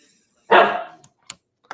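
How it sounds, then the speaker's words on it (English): Pet dog indoors lets out one loud sharp bark followed by a few faint short yips, close by with quiet gaps between. "My dog didn't like that. He's barking at me."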